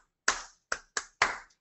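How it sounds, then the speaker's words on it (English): Four sharp hand claps in an echo-clap rhythm used to get students' attention: a single clap, a short pause, then two quick claps and a final, slightly longer clap, close and crisp with no talking. "You might need to pair that with an echo clap"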